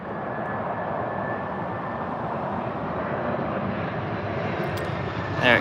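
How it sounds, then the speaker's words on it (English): An Airbus A319 approaching to land at London Gatwick: a steady, distant broadband engine rumble holding level throughout, with a faint whine and a brief sharper sound at the end. "And you can slowly hear it, the 319."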